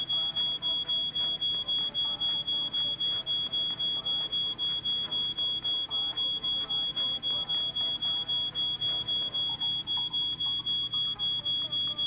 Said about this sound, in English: We need to do something about that alarm.